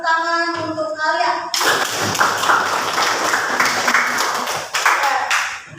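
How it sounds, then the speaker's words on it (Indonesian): A teacher's voice is heard briefly before a classroom group in an Indonesian teacher-training session bursts into clapping, a busy patter of hands that stays strong for several seconds with a few sharper claps near the end. "Silakan kasih tepuk tangan untuk Alia."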